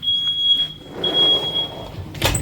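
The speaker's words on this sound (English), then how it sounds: "My smoke alarm just went off." A smoke alarm beeps repeatedly, set off by cooking smoke, a high, thin electronic tone in short and long bursts, steady and piercing, over quiet room noise with a brief clatter at the end.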